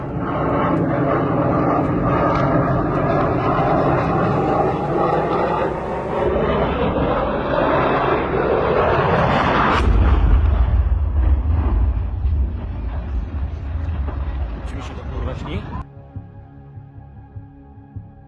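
A Sukhoi Su-27 fighter jet crashes. A loud jet engine roar rises and sweeps in pitch, then a deep rumbling boom swells before the sound cuts off abruptly to a faint background.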